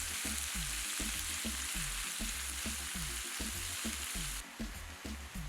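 Shrimp laid in a single layer in hot oil over high heat, left unstirred, giving a loud, dense, continuous sizzle with a faint regular thumping beneath, easing slightly near the end.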